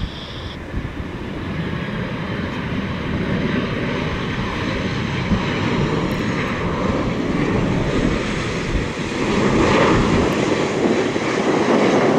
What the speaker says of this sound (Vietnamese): một chiếc Boeing 737-700 của Ruli Airlines, một hãng hàng không đến từ Trung Quốc đang bước vào hạ cánh